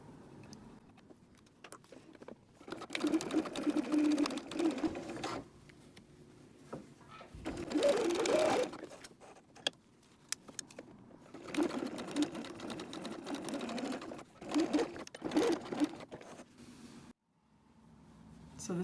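A sewing machine stitches a fabric change purse in several close, steady bursts with short pauses between them. No one speaks.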